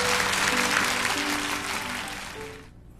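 A church congregation in New York claps for a mother and her son, a dense wash of applause that holds steady and then cuts off near the end.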